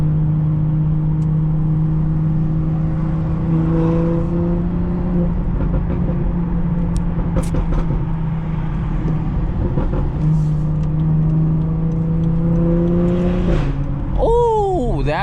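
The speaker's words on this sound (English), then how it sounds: "This car's wildin' with them downshifts." A BMW 440i engine drones steadily while driving, with rising revs and shifts in pitch during downshifts, a short quick rev burst near the end, heard from inside the car over road noise.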